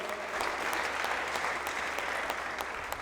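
A comedy club crowd at the Laugh Track Comedy Festival applauds in a continuous, even wash of many hands clapping, moderately loud and sustained from start to finish, with no talking.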